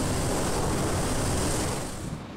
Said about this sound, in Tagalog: Malakas ang buhos ng ulan at ang pagbayo ng hangin.